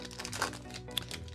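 A Pokémon XY12 Evolutions booster pack wrapper being torn open, a short burst of crinkling foil close to the mic over a quiet background.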